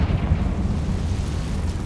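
A Confringo blasting spell explodes in Hogwarts Legacy, a deep sustained rumbling boom that stays loud and heavy throughout, without voices.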